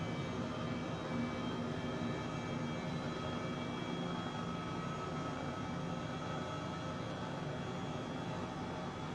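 An H135 helicopter hovering in Microsoft Flight Simulator gives a steady, even rotor and turbine drone that holds unchanged throughout, loud and continuous with no talking.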